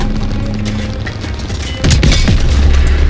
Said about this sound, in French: Le char ennemi a été détruit!